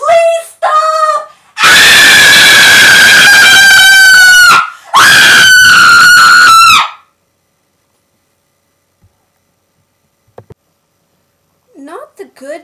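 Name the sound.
terrified screams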